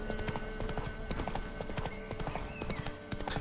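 Steady clip-clop of a horse's hooves as it is ridden in The Witcher 3, an even trotting rhythm that stays close and fairly quiet, with faint talk in the background.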